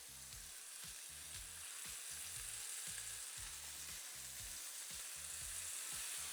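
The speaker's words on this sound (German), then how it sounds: "Jetzt hauen wir mal unsere Medaillons hier rein" Pork medallions sear in a very hot pan with a loud, steady, close sizzle and crackle that runs continuously without pause, with faint knocks of stirring or handling beneath it and no voices.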